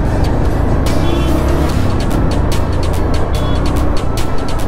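A big vehicle overtakes on the road with a loud, constant roar of engine and road noise, broken by faint repeated ticking, and a voice talks now and then.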